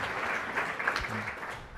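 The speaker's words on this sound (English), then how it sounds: "perhaps we can give us a little round of applause for their insight." An audience at a ministerial fireside discussion gives a soft, distant round of applause, a brief steady patter of clapping in a large room.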